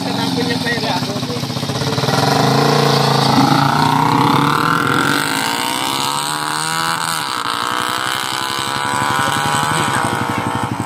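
A Honda TMX 125 Alpha motorcycle fitted with an RM Racing open pipe idles and revs loudly up close, its raspy exhaust note rising and falling over several throttle blips.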